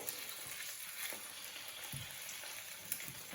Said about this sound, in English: when I'm hearing that lovely sizzly noise, I know that it's cooking in a nice hot environment